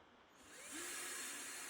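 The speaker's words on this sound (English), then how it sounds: "I'm just simply drilling through the plastic and stopping" A power drill bores through a plastic bucket, its whine rising as the motor spins up and then holding a steady, fairly quiet grinding drone, with no talking.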